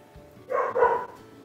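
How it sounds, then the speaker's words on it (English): A dog gives a couple of quick barks, moderately close, in an otherwise quiet indoor room where soap is being made. "Sorry if you can hear my dog barking."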